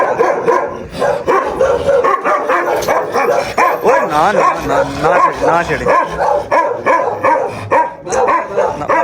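A pointer puppy barks repeatedly and loudly nearby, with yips mixed in, while someone speaks over it trying to calm things.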